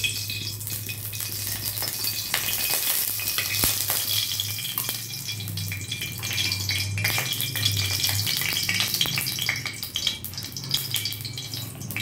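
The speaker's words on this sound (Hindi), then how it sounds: "কড়াইয়ে আমি এবার একটু সরষের তেল দেব।" Mustard oil sizzling and frying in a kadai (wok), a steady crackling hiss with occasional stirring clatters, heard close and alone.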